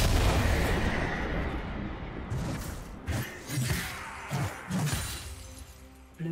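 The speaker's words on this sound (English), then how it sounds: "Blue team's turret has been destroyed." A defensive turret crumbles in a League of Legends match, a loud ongoing crash of shattering debris over game clamor, followed by several rhythmic heavy thuds.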